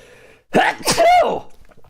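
A single sharp sneeze bursts out after a brief hush, loud and close, with a breathy intake before it and a trailing exhale.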